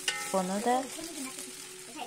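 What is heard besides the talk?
sliced potatoes frying in a pan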